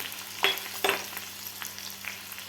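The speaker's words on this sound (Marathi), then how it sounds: "लसूण, कढीपत्ता, डाळ व्यवस्थित आपली फ्राय झालेली आहे." Garlic, curry leaves and urad dal fry in hot oil for South Indian sambar, giving a steady soft sizzle with two sharp spatters or stirring clicks early on, close by and without talk.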